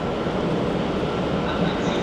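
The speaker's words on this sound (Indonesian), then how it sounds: "Nah, ini di sebelah kanan ada kereta Trenord." Steady loud rumble and rolling roar of a passing Trenord double-decker passenger train in Lombardy, Italy, continuous and close, with no clear voices.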